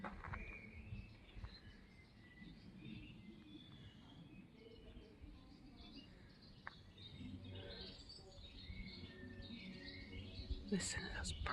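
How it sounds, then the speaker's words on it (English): Birds chirp and tweet around the grounds of Raglan Castle in Wales, faint scattered calls over quiet outdoor ambience, with a few brighter chirps near the end. "Listen to those birds."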